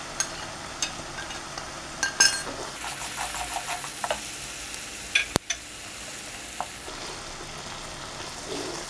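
Chili powder, garlic paste and spices fry in a pan with a steady soft sizzle, punctuated by scattered clinks and scrapes of a utensil stirring against the metal.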